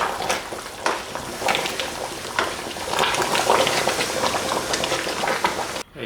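A beef and lamb curry stew with potatoes bubbling as it is stirred, a dense, close wet simmer with intermittent scraping and sloshing of the spoon, no talking.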